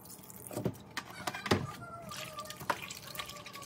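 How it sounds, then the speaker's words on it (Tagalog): Squid being rinsed in white vinegar for adobo gives close, irregular splashes, drips and sloshes of liquid with small handling knocks, fairly quiet. "Hugasan natin sa suka."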